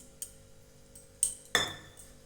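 Small cut coconut pieces dropped into a mixer jar, a few sparse hard clinks and clatters against the jar, the last two sharpest and closest, in an otherwise quiet setting.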